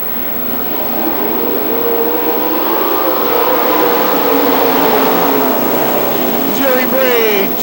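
Race cars accelerating at Billings Motorsports Park, a dense continuous engine roar from a pack of cars at a racetrack, loud and sustained, with a rising whine from a car passing near the end.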